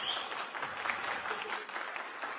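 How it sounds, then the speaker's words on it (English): Applause from an audience after a dance act in a radio drama, a steady dense crowd clapping that holds at an even level throughout with no voices over it. "The dancers bowed. Everybody applauded."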